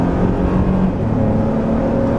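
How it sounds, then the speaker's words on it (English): A 2025 Toyota Tundra SR5 TRD Rally pulls away under acceleration, its exhaust giving a loud, steady low rumble with a rising drone and no talking. "I was expecting more bark out of that exhaust though, because it sounds nice at, you know, low kind of RPMs"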